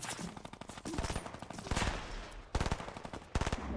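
A light machine gun fires in Fortnite, with several rapid, loud bursts of closely spaced shots separated by brief pauses, sharp and nearby.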